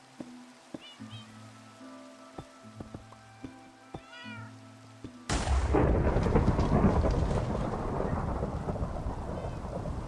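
A video game thunderstorm breaks in suddenly partway through: a loud, dense roar of thunder and heavy rain that holds steady to the end, after a stretch of quiet, repeated cat meows.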